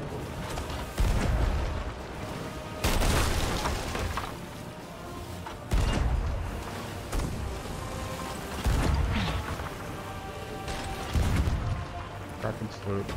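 Ship cannons firing in the pirate video game Sea of Thieves: heavy booms at a slow, regular pace, about every two to three seconds, over wind and sea ambience while players talk throughout.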